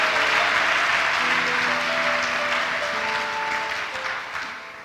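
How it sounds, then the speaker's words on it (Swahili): Church congregation applauding at a Sunday service, a steady wash of clapping from many hands that holds loud throughout and tapers slightly toward the end, with a faint sustained tone beneath. "Tumpikie Yesu makofi."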